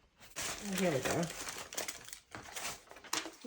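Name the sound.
crinkling a piece of order paper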